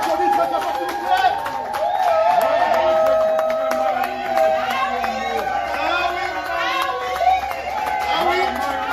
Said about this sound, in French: On peut applaudir très fort, s'il vous plaît.